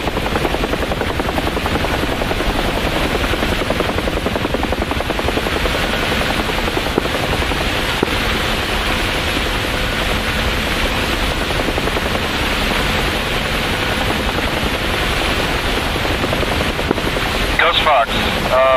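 A military helicopter in the DCS World combat flight simulator thumps steadily and loudly through the whole stretch, with dense rotor and engine noise near and constant, and a few sharp bursts near the end.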